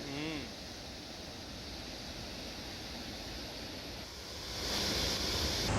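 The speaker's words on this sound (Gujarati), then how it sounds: "જીવાદોરી સમાન માજુમ ડેમમાંથી ફરી એકવાર પાણી છોડવામાં આવ્યું છે" Water released through the gates of Mazum Dam in Aravalli after heavy rain, a steady broadband roar of rushing water that swells louder near the end, with no clear voices.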